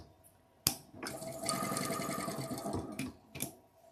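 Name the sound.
sewing machine sewing a seam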